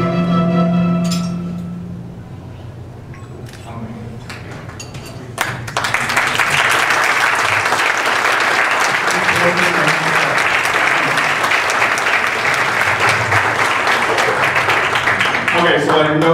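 Loud, sustained applause from a large audience breaks out about five seconds in and carries dense and steady to the end, after a stretch of music with a voice over it.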